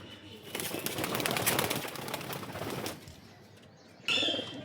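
Soft, low cooing from a male pigeon beside its mate, heard close among wing flutters and rustling, fading quieter before a brief sharper sound near the end.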